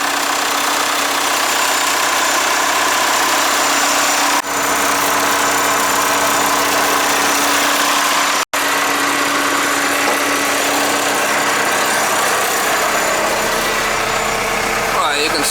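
Trackless MT5TD tractor engine idles steadily with a turbo whine, a constant close mechanical drone with a brief dropout midway.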